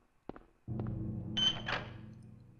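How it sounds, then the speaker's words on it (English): A beeping tone in the Silent Hill video game: a faint click, a low droning rumble, then a brief high electronic beep rising over the hum, muffled and distant. "What was that beeping sound?"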